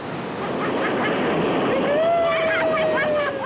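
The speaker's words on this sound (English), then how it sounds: "we've got our work cut out for us as we get in amongst some grade 3 rapids" Grade 3 river rapids rush loudly and continuously through a narrow gorge, a dense broadband roar with wind buffeting the microphone and a faint tonal whine drifting over it.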